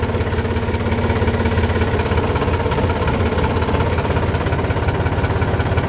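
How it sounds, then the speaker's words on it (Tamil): A tractor engine idles steadily after starting, a loud close mechanical chug with an even knocking rhythm throughout and no talk. "இப்போ நியூட்ரல் பண்ணிவிட்டு நம்ம வண்டியை ஸ்டார்ட் பண்ணலாம். வண்டி ஸ்டார்ட் ஆகிடுச்சுங்க."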